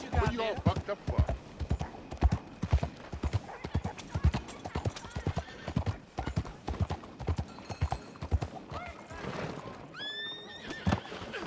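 Horse hooves clip-clop in a steady trotting rhythm in the video game Red Dead Redemption, close and loud, with a horse neighing near the end and someone talking over it.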